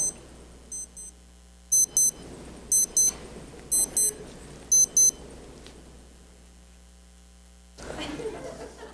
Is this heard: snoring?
no